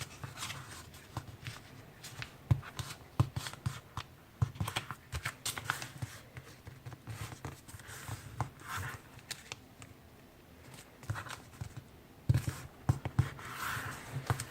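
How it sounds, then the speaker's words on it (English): Handling and creasing a sheet of paper while folding a paper airplane, with close, irregular rustles and soft sharp crease snaps scattered throughout, no talking. "I use both edges as a preference to fold this side up."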